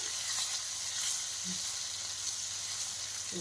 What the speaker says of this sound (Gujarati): હિંગ ગરમ થાય એટલે આપણે આ દ્રાક્ષને એમાં એડ કરવાની છે અને એમાં સારી રીતે સાંતળી લઈશું આપણે દ્રાક્ષને